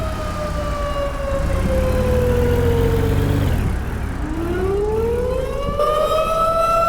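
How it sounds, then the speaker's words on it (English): Tornado warning sirens wail across Lakota, long rising and falling tones that sweep down, dip, and climb again, loud and sustained with a low rumble beneath. "Still have sirens going off in Lakota"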